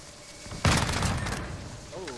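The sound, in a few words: gunshots in the video game Modern Warfare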